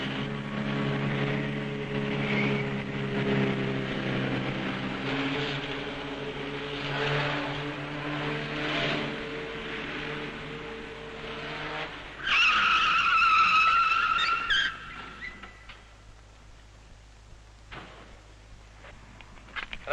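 Simca Ariane car driving on two wheels around a velodrome, its engine droning with a steady rising and falling tone, then a loud shrill tire squeal for a few seconds before the sound drops to a quiet hum.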